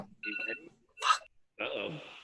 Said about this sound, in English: Uh-oh. Someone's ringing.